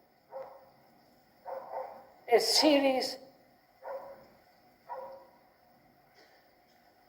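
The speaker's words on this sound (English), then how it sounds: "Could we ask the dog to be quiet for a while?" A dog barks in a short burst of several loud, close yips and woofs, surrounded by people talking calmly in a quiet room.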